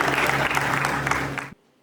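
Audience applause at a Hindi poetry gathering: a full, steady burst of many hands clapping over a low hum, cutting off abruptly into near silence after about a second and a half.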